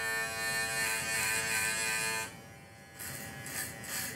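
A JRL Onyx hair clipper with a guard attached buzzes steadily up close while cutting hair, rising to a louder whine and then dropping in tone as it moves.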